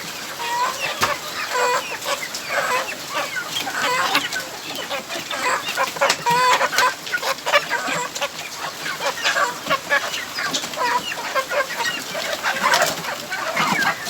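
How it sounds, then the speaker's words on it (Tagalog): Chickens clucking on a small chicken farm on a rainy day, many birds chattering and calling continuously close by over the steady hiss of rain. "kunting pasilip sa aking mga alagang manok"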